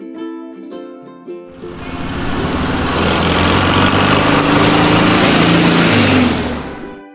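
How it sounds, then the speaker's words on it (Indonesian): A short musical jingle gives way to a loud, steady van engine roar that runs for several seconds before easing off at the end. "V is for van, mobil van."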